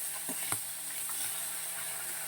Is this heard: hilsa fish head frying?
yes